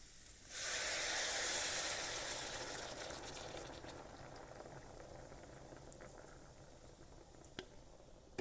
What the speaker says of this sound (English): will add the can of coconut soda in here